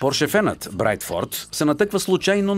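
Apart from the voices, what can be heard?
No everyday noises stand out.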